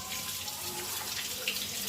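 Tap water running steadily into a sink while crabs are cleaned, a faint, even hiss with no talking.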